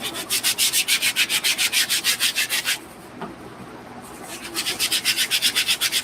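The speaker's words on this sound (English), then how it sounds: "we're still scrubbing these down. The stiff bristle brush." A stiff bristle brush scrubbing suede shoes in quick, rhythmic back-and-forth strokes, loud and close, with a brief pause before the scraping resumes.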